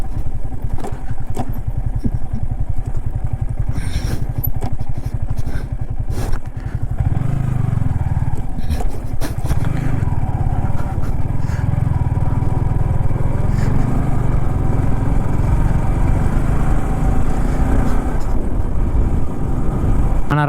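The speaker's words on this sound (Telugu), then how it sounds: "మొత్తం అయితే ఆఫ్ రోడ్ గుట్టలకి అయితే వెళ్తుంది మన బైక్ అయితే" A motorcycle rides off-road over mud banks and rough potholed dirt, its engine loud and close throughout with revving surges and clattering bumps, no voices over it.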